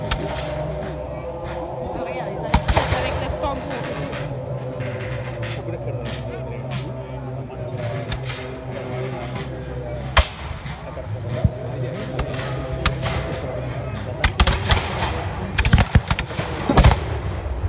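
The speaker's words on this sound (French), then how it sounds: "Malgré le feu des canons." Heavy cannon booms go off at intervals, some in quick pairs, over a continuous rumble of outdoor crowd noise and voices at a 2019 Battle of Waterloo reenactment.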